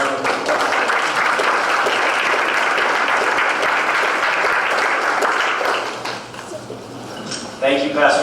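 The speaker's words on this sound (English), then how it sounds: "Let's give him a round of applause." Dense, sustained audience applause at a community talk on housing fills most of the clip, steady and loud, then thins out toward the end as a voice begins to speak.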